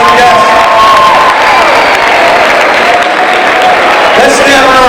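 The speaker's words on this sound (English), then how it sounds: "give them a round of applause" Graduation ceremony audience giving sustained loud applause and cheering, dense clapping with scattered shouts filling the hall throughout.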